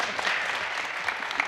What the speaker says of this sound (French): applaudissez pour le DJ